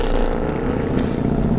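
A 6.2 liter naturally aspirated V8 engine rumbles loudly and steadily up close, a dense, continuous deep roar with no pauses and no voices over it.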